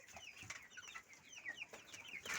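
Small chicks running into a village farmyard peep and cheep in quick, overlapping high chirps, faint and a little distant, with soft clucking mixed in.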